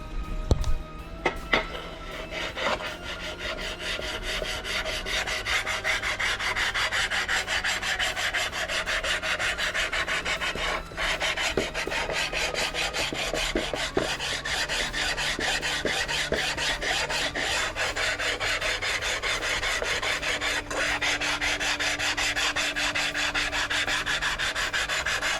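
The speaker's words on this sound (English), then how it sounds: "just kind of flat sanding the surface here with a stone" Steady, continuous rubbing and rasping of a stone flat-sanding the surface of a part for a 445 FE Ford stroker engine, with scattered clicks and scrapes, close and moderately loud throughout.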